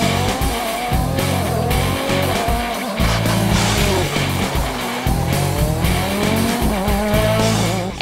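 Rally cars race on a tarmac stage at the FIA World Rally Championship's round 9 in Germany, engines roaring loud and continuous with shifting pitch and tyre squeal throughout, no pauses.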